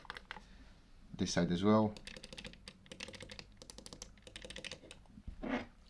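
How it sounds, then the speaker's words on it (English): Clicky buttons on an EasySMX M15 mobile gaming controller are pressed in quick bursts of sharp, close taps, interleaved with a person talking. "The buttons everywhere are clicky. They sound really nice."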